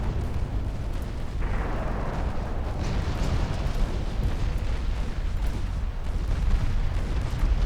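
Deep rumbling blasts of torpedoes striking a warship in the naval game Ultimate Admiral Dreadnoughts roll on continuously, a loud, sustained low roar with a sharper burst near the start and steady thunder afterward.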